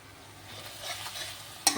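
Masala for egg curry stirred and fried in a pan, a soft sizzle with scraping stirs, ending in a sharp clink.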